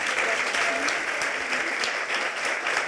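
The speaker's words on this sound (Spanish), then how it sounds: "así que aplauso" An audience applauds steadily and evenly for three seconds at a conference event on gender challenges, the dense clapping filling the hall without a break.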